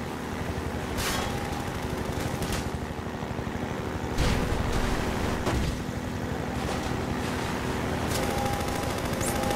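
Gunfire in the shooter game Half-Life 2, dense sustained bursts of shots over a loud constant background of game noise, with a few sharper cracks standing out.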